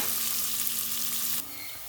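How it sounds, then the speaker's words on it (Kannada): Onion, green chili and curry leaves fry in hot oil in a pan for upma, a bright continuous sizzle that holds steady and then drops slightly quieter near the end. "ಈರುಳ್ಳಿ ಹಸಿಮೆಣಸಿನ್ಕಾಯಿ ಕರಿಬೇವು ಇಷ್ಟು ಸ್ವಲ್ಪ ಫ್ರೈ ಮಾಡ್ಕೊಳ್ಳೋಣ"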